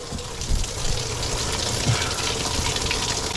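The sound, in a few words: coolant draining out of Honda Civic Type R FN2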